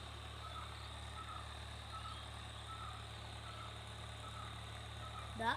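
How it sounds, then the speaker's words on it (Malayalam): A tractor ploughs a paddy field some distance away, heard as a faint, steady low engine drone that runs without change through the open-air quiet. "അവിടെ ട്രാക്ടർ പൂട്ടുന്നുണ്ട്"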